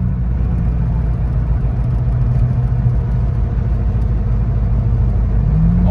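A 2002 Ford Ranger rolling at about 35 mph with worn U-joints, giving a steady, loud, low rumbling drone that stays constant throughout with no talking.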